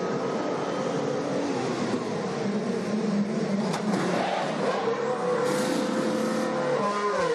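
A Mercedes Formula 1 car pulls away from a pit stop at the 2015 Australian Grand Prix, a loud, continuous high-pitched engine whine blending with surrounding race-circuit noise, with no talk over it.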